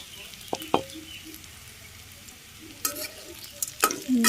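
Fried bitter gourd stirred into a frying pan, quiet background sizzle with a few sharp spatula knocks and scrapes scattered through, the clatter growing busier near the end.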